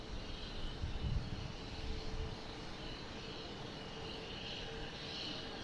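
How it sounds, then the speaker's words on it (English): JetBlue Airbus A321 airliner at Boston Logan International Airport, a steady broadband jet roar with a faint whine, slightly louder in the first two seconds and then holding even, heard alone. "here's JetBlue heading to San Francisco in A321, flight 233"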